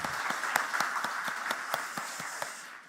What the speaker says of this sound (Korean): 우리 다시 한 번 더 격려와 위로의 박수를 하도록 하겠습니다